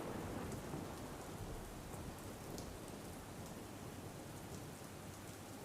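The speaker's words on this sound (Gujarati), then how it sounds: "બનાસકાંઠામાં સતત 2 દિવસથી વરસાદ વરસી રહ્યો છે" Steady, dense monsoon rain falls in Banaskantha as a continuous wash of hiss and patter, with a faint low rumble beneath and no voices.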